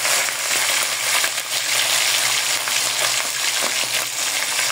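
Fish frying in plenty of cooking oil gives a loud, steady, dense crackling sizzle that runs unbroken from start to finish, with small pops scattered through it.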